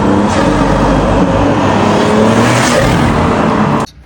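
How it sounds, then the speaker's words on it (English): A BMW F20 M140i engine revving hard and loud, a raspy roar sustained at high revs for a few seconds before cutting off abruptly. "So if you want to make your M140i sound like this"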